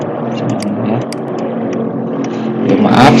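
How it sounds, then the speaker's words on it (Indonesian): A truck rumbles past on the road outside a roadside house, a steady low drone that swells louder toward the end, with faint clicks and taps nearby. "Maaf suara truk"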